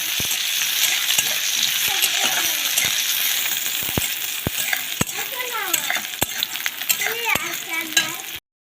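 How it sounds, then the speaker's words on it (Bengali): Onion and garlic frying in oil in a pan, with a steady close sizzle, occasional clinks and scrapes of stirring, and crackling throughout. "পেঁয়াজ রসুন ভাজা হয়ে গেছে"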